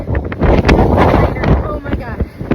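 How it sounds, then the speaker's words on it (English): Strong wind at Meteor Crater buffets the microphone in loud, rumbling gusts that rise and fall without letup, with faint muffled voices underneath. "it was so windy. It almost blew us away."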